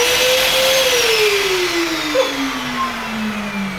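Ramtons wet and dry vacuum cleaner running at close range, a loud, continuous airy roar with a high whine that slowly drops in pitch, steady throughout with no talking.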